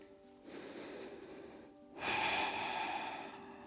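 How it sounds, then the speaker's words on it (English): Two long, deep breaths during a yoga workout, a slow inhale followed by a louder, fuller exhale, close and alone with no talking. "Breathing here."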